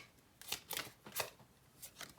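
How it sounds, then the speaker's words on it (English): A deck of tarot cards is being shuffled and cut by hand, with several quick papery riffles and slaps in irregular bursts, close and fairly quiet, with no talking. "Cut the deck again."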